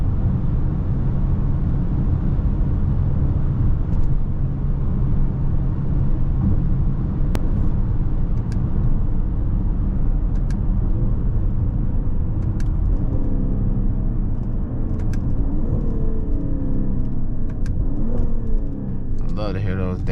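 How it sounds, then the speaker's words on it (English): A 2024 Mercedes-AMG GLE 53 on a late-night drive, its engine a loud continuous rumble heard from inside the cabin, with brief blips and shifts in pitch as it drops through the gears. "I love to hear those downshifts."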